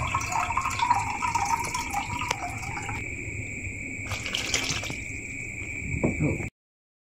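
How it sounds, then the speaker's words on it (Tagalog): Water pours into a cooking pot of sliced bananas, a steady running and filling sound that goes on for several seconds and then stops abruptly, with no talking. "naglalagyan na po ng tubig"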